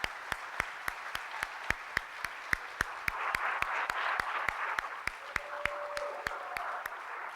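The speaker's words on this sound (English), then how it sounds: "let's give it a round of applause" Applause at a city manager swearing-in ceremony in Hayward: one sharp, evenly spaced clap sounds close by, over a softer, steady wash of audience clapping that swells midway through.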